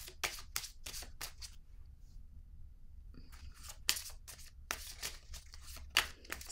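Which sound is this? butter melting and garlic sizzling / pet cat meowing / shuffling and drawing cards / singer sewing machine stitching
shuffling and drawing cards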